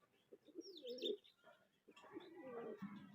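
Pigeons cooing softly nearby, a few low throaty rolling coos with light chirps in a quiet setting.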